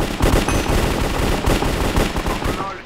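Rapid, loud AK rifle fire rattles in continuous bursts for a few seconds in the Hive server's Cops vs Crims game, dense and close with no clear pauses.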